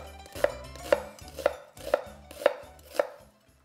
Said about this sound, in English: I'm gonna go ahead and finely chop an onion